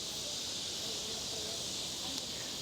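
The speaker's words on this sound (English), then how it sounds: "the Asian cicadas are extremely loud" Loud, steady buzzing of Asian cicadas fills an outdoor street scene in Chungmuro, Seoul, a dense continuous drone with no pauses throughout.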